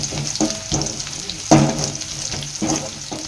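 Garlic and vadagam (sun-dried seasoning crisps) sizzle in hot oil during Tamil-style tempering, a steady close frying hiss broken by several louder crackling bursts as pieces hit the oil and get stirred, with no talking.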